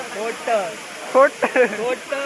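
A steady rushing roar of Bokadkada Waterfall near Vajreshwari, India, fills the background while a person talks over it.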